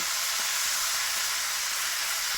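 Banana flower and pre-fried potatoes are sautéed with fried spices over a clay stove, producing a low, even hiss of frying that runs without a break, with no stirring clicks and no talking.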